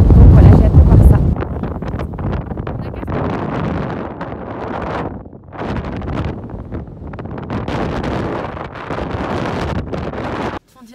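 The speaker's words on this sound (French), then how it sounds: "Je peux vous dire qu'il y a du vent." Strong wind buffets the microphone outdoors in Iceland near the rift where the Eurasian and American plates meet, a loud continuous rumbling roar with gusts that ease briefly midway and cut off near the end.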